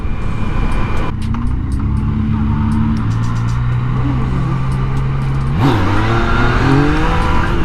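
A motorcycle revs hard and accelerates while doing street wheelies, its loud engine note climbing and dropping in pitch several times against steady road noise.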